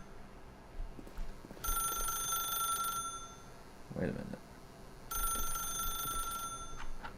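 A telephone rings in The Stanley Parable video game in two long bursts of bright, steady bell tone over a low hum, separated by a pause in which a voice speaks briefly.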